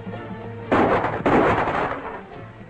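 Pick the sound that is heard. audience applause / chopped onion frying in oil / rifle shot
rifle shot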